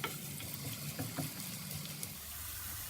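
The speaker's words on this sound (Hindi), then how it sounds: "इसमें हम डाल देंगे प्याज। प्याज को हम हल्का गोल्डन कर लेंगे।" Onions sizzle softly in a few spoonfuls of hot cooking oil for potato and spinach sabzi, a faint steady fry with small crackles and no talking.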